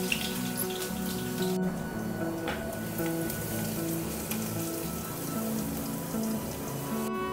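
Crushed garlic drops into hot oil with mustard seeds for a Konkani-style dahi kadhi, giving a steady dense sizzle and crackle throughout, close and fairly loud with no talking.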